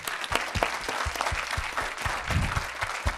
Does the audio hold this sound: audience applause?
yes